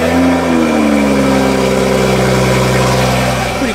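A 2021 Toyota A91 Supra fires up from cold, with a brief rev flare at start-up before it drops into a steady, loud, close idle. No one speaks over the engine.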